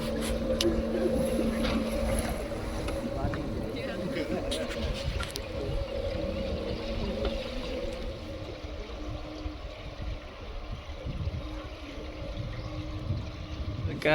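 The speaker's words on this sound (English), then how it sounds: "It was very peaceful, with a low hum of the motor and an occasional bird chirping." A tour boat's motor hums low and steadily throughout on a flower-garden canal trip, a constant drone with water wash beneath it and a voice talking over it.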